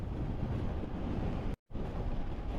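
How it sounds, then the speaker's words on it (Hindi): Strong wind roars across open fields on the road toward Schwerin, Germany, a loud steady buffeting rush against the microphone that briefly cuts out before resuming. "क्या जबरदस्त हवा चल रही है। हवा बड़ी तेज है यार"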